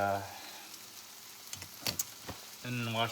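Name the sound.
steak frying in hot olive oil on stove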